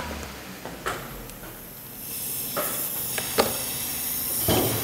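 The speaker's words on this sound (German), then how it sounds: "Das zischt irgendwo raus." Pressurized air hisses from a leaking, chafed air-conditioning line on an Audi A4, a steady broadband hiss that swells gradually, broken by a few sharp clicks and knocks nearby, with no one speaking.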